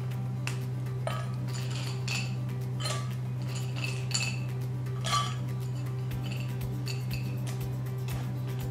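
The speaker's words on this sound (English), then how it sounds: "I'm going to break the chocolate into good small pieces which will help it to melt quickly." Chocolate being snapped into small pieces by hand in a kitchen, scattered sharp snaps and light clinks, close and fairly quiet over a constant low hum.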